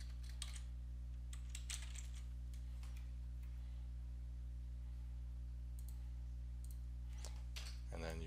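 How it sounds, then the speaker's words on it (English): Light clicking of a computer keyboard on a Mac, a few quick bursts of keystrokes scattered over a low steady hum, fairly faint and close. "type in education instead."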